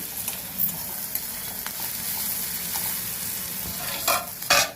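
Ridge gourd pieces sizzle in a pan with onions already fried brown, a close, steady crackle with spatula stirs and scrapes, rising to a couple of sharper bursts near the end, no talk.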